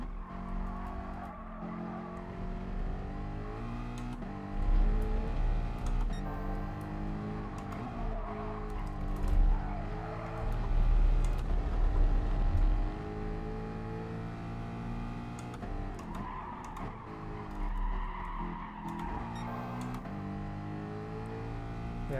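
A Ford Mustang race car in GT Sport, its engine revving up and down through gears with repeated tire squeal and skidding through corners, steady and close throughout.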